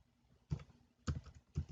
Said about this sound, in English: Make sure I am typing this correctly.